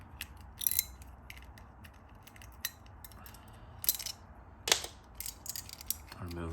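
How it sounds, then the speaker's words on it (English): Small metal clicks and ratcheting ticks come from a Graflex flash clamp as its lever is unscrewed, short scattered taps close by with quiet pauses between them and no talking. "if I just unscrew the lever all the way"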